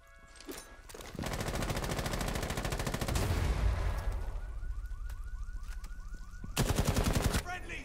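Rapid automatic gunfire from the Rainbow Six Siege video game rattles in sustained bursts, loud and close, with a short pause and then another sharp volley near the end.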